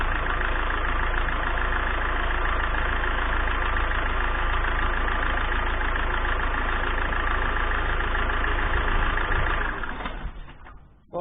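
A Citroën C5 engine idles steadily during radiator bleeding, with a low, even rumble and mechanical ticking, then cuts off abruptly near the end.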